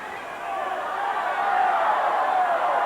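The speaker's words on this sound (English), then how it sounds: "you can hear the crowd and their disapproval of the Dirty White Boy and his tactics" At a Continental Wrestling match, an arena crowd voices disapproval with a sustained, swelling boo that grows louder over the first seconds and holds steady, a broad mass of voices with no distinct words.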